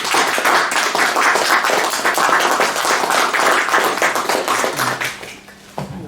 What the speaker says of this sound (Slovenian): da zasluži ta aplavz.